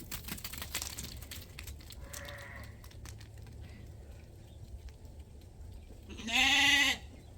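A woolly-faced ram on a sheep farm lets out one clear, loud bleat of under a second, near the end of a quiet stretch of faint rustling and background noise.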